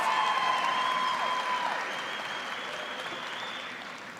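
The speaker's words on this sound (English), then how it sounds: "Please give these MVL award winners a round of applause." Audience at a 2023 high school commencement applauding award winners, a dense wash of steady clapping that starts strong and slowly thins out, with a few tonal sounds and faint voices drifting over it.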